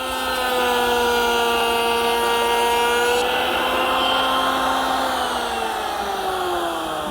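A router fitted with a half-inch cove bit cuts a profile along Scotia molding for a breakfront cabinet, a loud sustained motor whine with a shifting pitch that holds steady throughout, no talking.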